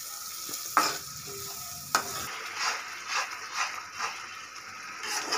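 A spice mixture sizzles gently in a pan over a low flame, a soft steady frying hiss broken by a few sharp clinks and scrapes of a spoon stirring, close and fairly quiet.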